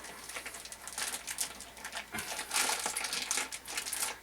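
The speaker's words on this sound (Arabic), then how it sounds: "اسد الكيس وانتظر 10 دقائق" A plastic bag holding fish is closed up, with close, soft crinkling and rustling of the plastic in irregular bursts and no talking.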